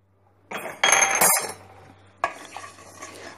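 Yellow mustard seeds and cumin stirred in a pan while roasting: a spoon scrapes and clinks against the metal in a couple of loud bursts, then a softer, continuing rattle of dry seeds.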